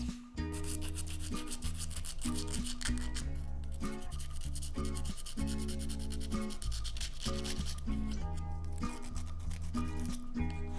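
Sandpaper scuffs a metal jewelry finding in steady back-and-forth rubbing strokes, with short pauses between passes, close and fairly quiet.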